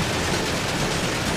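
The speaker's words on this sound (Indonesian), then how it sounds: "ini kita tembak-tembakin terus nggak meledak-meledak, teman-teman" Dense, continuous gunfire in GTA 5 as a car is shot repeatedly, loud, rapid shots blending into an unbroken roar.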